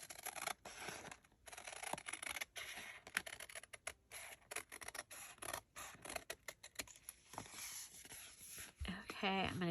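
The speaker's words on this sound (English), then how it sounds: "now I am going to go ahead and cut this down." Scissors cutting a large journal card down to size, with quick rapid snips and paper rustling close up, quiet and intermittent, with brief handling scratches.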